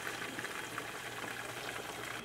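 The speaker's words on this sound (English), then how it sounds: "So we'll let that fry for a little bit." Chicken pieces frying in hot oil in a deep fryer, a continuous dense sizzle and crackle of bubbling oil, close and steady with no voices.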